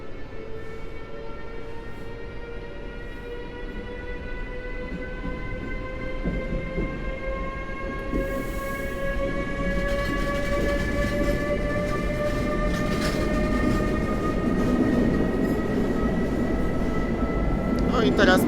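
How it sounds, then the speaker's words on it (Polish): An express passenger train pulls away from a station with a loud, steady rumble while its motor whine climbs gradually in pitch as it gathers speed. "Pociąg może ruszać. I odjazd!"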